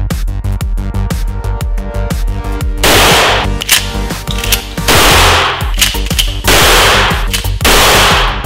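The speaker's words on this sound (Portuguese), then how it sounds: "Só quem já atirou de calibre 12 sabe o quanto é bom atirar com esse tipo de arma." A 12-gauge CBC Pump Military shotgun firing outdoors: loud, sharp blasts in quick succession, with heavier booming reports at a steady pace, each followed by ringing echo, close and dominant with no talk.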